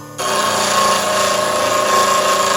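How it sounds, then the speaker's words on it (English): A grinding wheel sharpens a woodturning tool held lightly against it, producing a loud, continuous abrasive whir with a steady tonal hum that starts abruptly and runs unbroken. "I'm just more or less guiding it through the sharpening"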